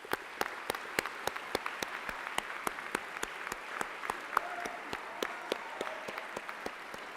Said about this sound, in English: a round of applause for our wonderful faculty